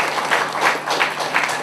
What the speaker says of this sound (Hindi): रमा बहन के लिए भी हम ताली बजाते हैं